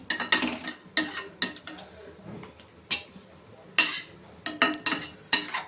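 Gongura curry is mixed in a pot, heard as a close series of sharp metallic clinks and scrapes from a spoon against the pot, coming in irregular bursts with quieter stirring between them.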